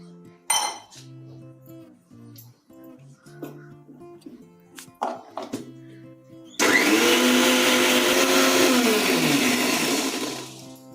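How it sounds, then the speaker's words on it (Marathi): A mixer grinder blends a wet masala of onion, ginger and garlic with a little water, starting abruptly as a loud, steady whir after a few soft kitchen clinks and running continuously to the end. "आता ही जरा मिक्सरला लावून काढून घेते"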